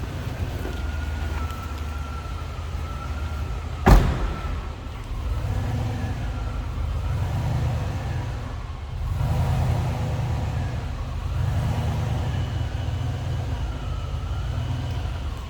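A 1995 Cadillac Seville SLS sedan idles steadily from behind the car, a low continuous engine rumble with gentle swells and one sharp knock partway through, no talking.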